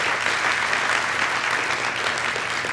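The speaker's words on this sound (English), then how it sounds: "Let's give another round of applause" Congregation applauding at Seattle Unity Church, a steady, dense wash of many hands clapping, sustained and even in loudness throughout.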